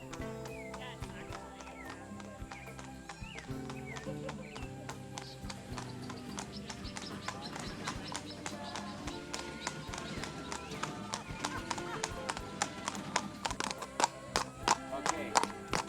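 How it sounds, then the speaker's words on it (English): Horses, including stallions and yearlings, move at a breeder's farm in Costa Rica, their hooves clip-clopping in a quickening rhythm that grows louder toward the end, mixed with background music and some voices. "It is always a thrill to see these magnificent horses move"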